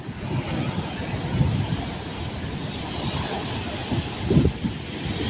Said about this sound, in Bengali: জলটা আসলে এখন ঢুকে যাবে ফুস করে